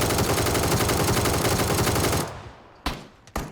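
Rapid automatic Kalashnikov rifle gunfire in the video game PUBG rattles continuously, then stops, followed by two isolated sharp shots in the quieter tail.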